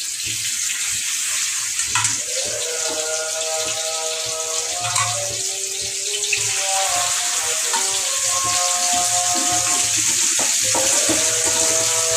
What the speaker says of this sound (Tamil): மீனை பொரிக்கும்